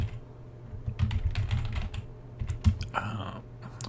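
Close typing on a computer keyboard, bursts of quick irregular key clicks with short pauses, moderately quiet and with no one speaking.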